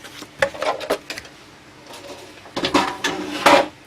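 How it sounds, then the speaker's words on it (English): Paper trimmer cutting cardstock: a few scattered clicks and scrapes of the blade and paper, a pause, then a busier run of sharp sliding slices and taps close by. "pull out my trimmer. And just give it a quick slice there."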